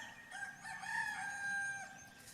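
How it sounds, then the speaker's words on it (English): A rooster crows in a long drawn-out call at moderate distance, fairly faint against a quiet backyard outdoor backdrop, with no talking. "got the roosters crowing this morning."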